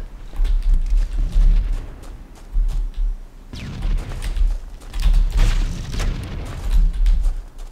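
Rockets explode one after another in a multiplayer match of Halo: Combat Evolved, a series of loud, deep, rumbling booms close by, with no talking.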